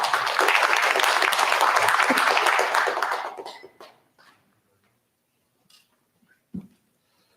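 Applause from a forum audience in a Korean conference room, dense clapping that holds for about three seconds and then dies away into near silence, followed by a couple of small isolated noises.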